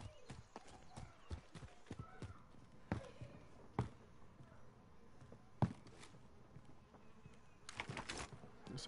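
Footsteps moving nearby, a series of sharp irregular thuds and knocks spread through the stretch, fairly quiet against a hushed background, with a denser cluster of scuffing toward the end.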